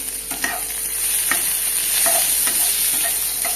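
Chopped onions fry in a pan for a chicken Maggi dish, making a loud, even sizzle broken by repeated spatula stirs and scrapes, with no voices.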